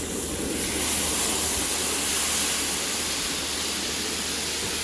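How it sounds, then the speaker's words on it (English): Water thrown onto a hot Camp Chef outdoor griddle bursts into a loud, steady hiss of steam and sizzle that holds unbroken throughout, with no voices. "So we're gonna throw on some water."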